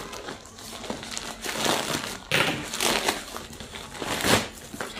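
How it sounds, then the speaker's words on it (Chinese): Plastic packaging of delivered clothes being torn open and handled, with continuous loud crinkling and crumpling, close up, no talk. "好，我拆开来，让我来打开包装。"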